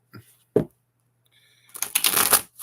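A deck of playing cards being shuffled: a couple of sharp taps, then a loud, close riffling burst of flicking cards, with no talk over it.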